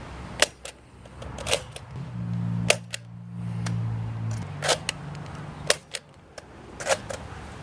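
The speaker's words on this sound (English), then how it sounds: "this time we're going to start with a proton firing standard Nerf Vortex discs." A Nerf Vortex Proton blaster fires standard Vortex discs in a string of roughly ten sharp, snappy launches at uneven intervals, with a brief mechanical whir partway through.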